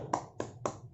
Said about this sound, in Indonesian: kita tepuk tangan untuk diri kita dulu sendiri ya, agar kita semangat dan fokus pada pelajaran